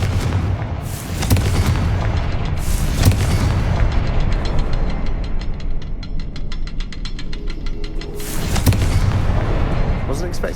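Heavy booming blasts from a Confringo fire spell in Hogwarts Legacy, several loud deep explosions spaced apart with crackling rumble between them, under a voice.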